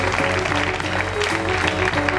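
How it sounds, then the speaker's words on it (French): A concert audience claps loudly for the sound and lighting crew, dense sustained applause with a faint tonal hum of the venue beneath, no talking heard. "on peut les applaudir très fort"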